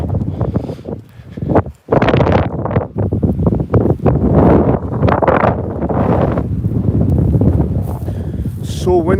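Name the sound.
strong wind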